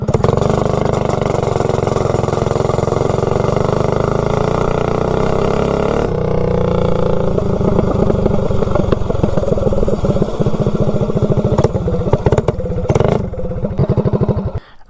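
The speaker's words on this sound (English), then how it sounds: "0 to 30, 16 tooth clutch on the GTS bike" A GTS mini bike with a 16-tooth clutch and tall highway gearing accelerating from 0 to 30: a loud, close small engine buzzes and climbs steadily in pitch, changes tone partway through, then chatters and cuts off at the end.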